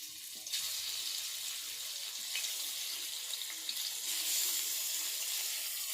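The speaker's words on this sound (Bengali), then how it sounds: "এইভাবে মাছগুলি এপিট ওপিট করে ভেজে নেব।" Kajal fish, a sea fish, frying in hot oil in a wok gives a continuous bright sizzle and hiss, near and steady, rising slightly toward the end, with no talking.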